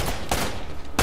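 Gunfire in the Uncharted: The Nathan Drake Collection game comes as a few sharp, loud bursts, one early and a heavier cluster near the end, with no voices in between.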